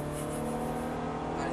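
Ferrari F430 F1 accelerating on a circuit, a steady close engine drone with strong low harmonics holding throughout, with a hint of voices in the background.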